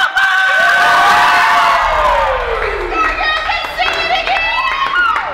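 Players cheering and screaming in a team change room, a loud crowd of high voices shrieking and whooping together, with sustained yells gliding downward and scattered shouts continuing throughout.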